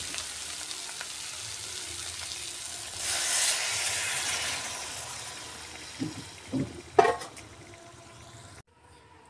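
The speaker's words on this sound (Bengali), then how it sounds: "এবারে জল দিয়ে দেবো।" Water poured into a hot pan of fried potato, yam and lentil fritters, a sudden loud hiss and steam burst that fades, followed by a few clanks and stirs near the end.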